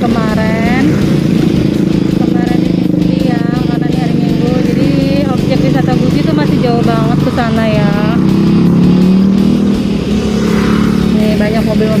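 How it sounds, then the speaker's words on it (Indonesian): Cars and motorbikes pass steadily on a busy Sunday road in Tegal, engines droning loud and close, one vehicle revving through, with faint talk mixed under the traffic. "mobil-mobil lewat juga."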